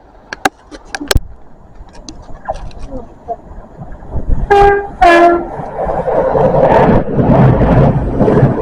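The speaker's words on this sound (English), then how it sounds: "That's the Cardiff train." A Cardiff-bound passenger train runs through Lostwithiel station, sounding two loud horn blasts before its rumble builds and rolls past up close, with people talking faintly nearby.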